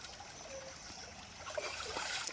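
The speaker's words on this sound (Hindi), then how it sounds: "नदी चल रही छोटी सी, कितनी साफ पानी" A small, clear mountain stream near Nainital trickles and burbles steadily nearby, a constant gentle wash of water with occasional splashes.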